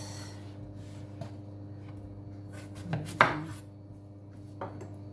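Sharp knife cutting through celeriac on a board, a couple of distinct firm chops amid quiet kitchen background.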